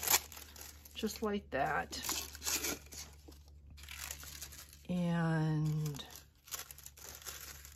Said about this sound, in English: I'm just going to rip this down